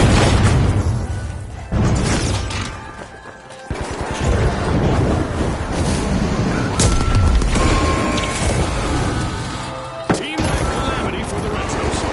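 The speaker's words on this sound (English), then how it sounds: "Frag grenade out! Send it to frag!" A frag grenade blast booms loudly in the arena shooter The Finals amid a chaotic mix of gunfire and crashes, with an announcer talking over it.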